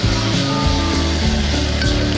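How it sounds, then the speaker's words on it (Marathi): Ginger-garlic paste fries in a hot pan, giving a steady, close sizzle with a low rumbling bubbling underneath, continuous throughout with no voices. "पेस्ट चांगली व्यवस्थित भाजून घेऊया"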